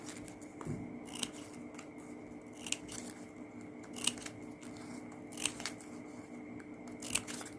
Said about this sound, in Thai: เสร็จแล้วตัดปลายริบบิ้นทิ้งค่ะ